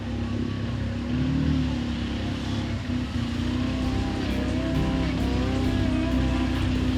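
A 1991 Holden Jackaroo 4x4 driving off-road, its engine droning steadily and loudly at a fairly constant pitch for several seconds, with no talk over it.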